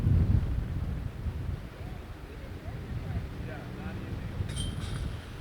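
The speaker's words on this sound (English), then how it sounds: "The wind is absolutely gusting right now, making even these tap-ins a little bit nervy." Gusty wind buffets the microphone on an outdoor disc golf course, a steady low rumble that surges loudest at the start, with no talk over it.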